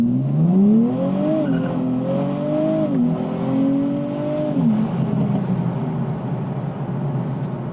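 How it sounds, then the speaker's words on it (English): A Nissan Z Nismo accelerates hard in sport mode with a bit of wheel spin, its engine note climbing through several gears with rising pitch sweeps and shifts, loud and steady with no voices. "so you can hear a little bit of a wheel spin there"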